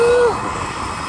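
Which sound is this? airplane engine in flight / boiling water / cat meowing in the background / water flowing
airplane engine in flight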